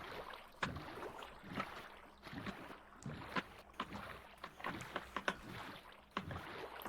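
Oars rowing a boat across open ocean in the Minecraft video game, with steady rhythmic paddle splashes and soft water wash repeating close up, no voices heard.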